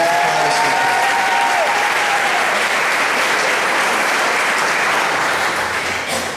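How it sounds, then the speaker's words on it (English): Sustained applause from a school concert audience honoring Courtney Daniel, a dense, loud wash of clapping that holds steady throughout and tapers slightly at the end. "Let's give Courtney a round of applause."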